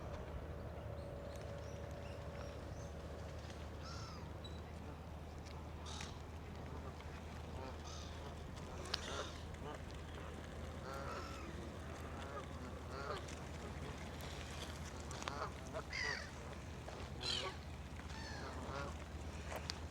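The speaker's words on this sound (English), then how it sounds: "Some people are feeding the geese." Geese being fed by people in Sandwell Country Park honk and call repeatedly, mixed with duck-like quacks, over a constant low outdoor rumble, with faint voices in the background.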